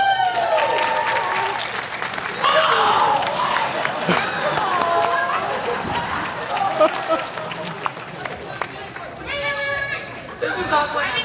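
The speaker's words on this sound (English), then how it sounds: "Let's give a round of applause." Audience applause and chatter from a crowd at a WonderCon 2025 convention panel, a sustained burst of clapping with voices talking over it.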